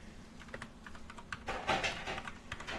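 Quick, close tapping on a computer keyboard, irregular bursts of keystrokes that get busier toward the middle.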